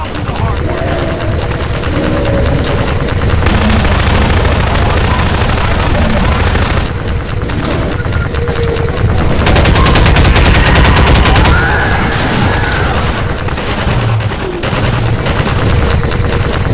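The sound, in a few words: gunfire in video game Half-Life 2: Episode Two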